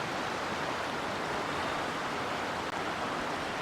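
Near Lochnagar, a mountain burn and waterfall rush in a dense, even wash of water noise that stays steady and fairly loud throughout, with no voices over it.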